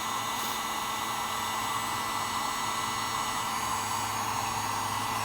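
A heat gun blows steadily to shrink heat-shrink tubing on the body wiring of a flood-damaged 2004 Mercedes SLK 320, a continuous loud airy whoosh with no pauses and no talking.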